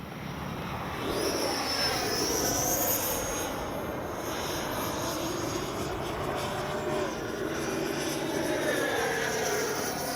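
An E-flite 90mm Viper RC jet makes a low flyby with the motor cut, giving a broad rushing airflow that swells and sweeps past over about ten seconds.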